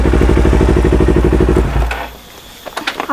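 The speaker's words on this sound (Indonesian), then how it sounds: "Motor baru nih." A new motorbike's engine idles with a loud, rapid, even putter, then cuts off abruptly, leaving quieter clatter and faint knocks.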